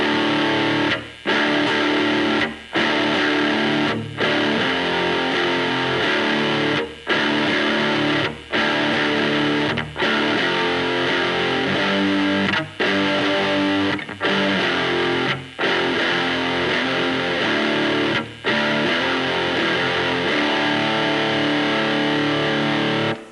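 Heavy distorted chords on a detuned electric guitar crash out loud and close, each chord ringing for a couple of seconds before brief choked gaps, repeating in a slow, pounding pattern.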